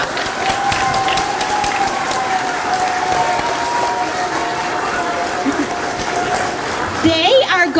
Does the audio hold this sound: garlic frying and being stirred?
no